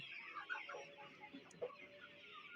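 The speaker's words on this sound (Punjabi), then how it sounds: "ਦੇਸੀ ਮੁਰਗਾ ਮੁਰਗੀ" Several desi (native Indian) chickens cluck softly in the distance, with scattered short calls over a quiet outdoor background.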